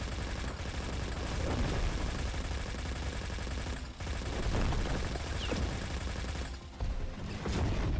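Dense, continuous gunfire in the MMO RF Online Next during a large PvP battleground fight: rapid overlapping shots and bursts, loud and close, running almost without a break for eight seconds with brief dips.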